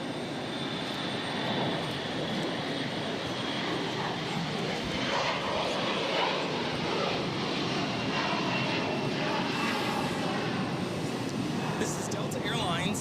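A Delta Airlines Airbus A321 jet takes off at Boston Logan, its engine roar loud and continuous throughout while people talk over it.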